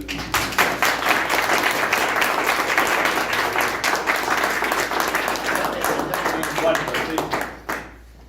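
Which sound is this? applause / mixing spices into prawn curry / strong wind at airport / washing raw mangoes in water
applause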